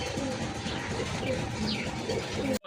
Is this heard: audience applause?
no